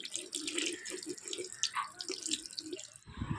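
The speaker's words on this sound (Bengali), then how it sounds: "কলের জল খুলে দিয়েছি দিয়ে এটাতে কিন্তু তাড়াতাড়ি শুকিয়ে যায় ঠান্ডা জল পালিশের উপর দিয়ে দিচ্ছি" Cold water runs from a tap over freshly painted nail polish, a steady close splashing stream that keeps going for about three seconds before cutting off.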